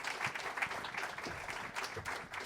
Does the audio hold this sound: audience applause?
yes